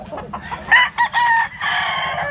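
A young rooster, a medium-sized stag on a farm, gives a short, loud crow in a few rising bursts, close by with no talk over it.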